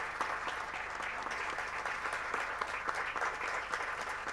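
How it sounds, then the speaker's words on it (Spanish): Steady, fairly quiet audience applause fills a parliamentary session hall in Patagonia, honoring a string ensemble from the Río Negro Philharmonic, with even, continuous clapping heard from a distance and no voices over it. "Fuerte el aplauso para ellos."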